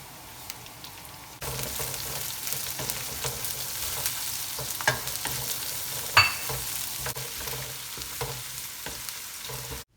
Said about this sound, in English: Onions are fried.